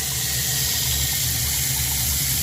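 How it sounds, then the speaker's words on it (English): Water rushing through a newly installed hot water tank, a steady loud broadband hiss and gurgle with a low rumble, continuous without talk. "So this is the water passing through the hot water tank."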